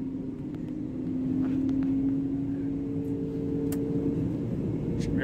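A passenger airliner accelerating down the runway on takeoff from Sacramento, heard from inside the cabin as a steady loud engine roar with a sustained tone and cabin rumble, with no talk.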